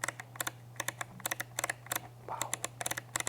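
Sharp, crisp clicks from turning the shutter speed dial on a Nikon Zf camera, a quick irregular run of close mechanical detents with a steady low hum beneath, no talking.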